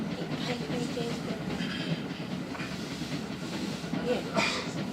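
A Tobu Tojo Line train rumbles steadily with rail noise and faint hissing as it moves toward a level crossing, a continuous moderately loud interior-style roar.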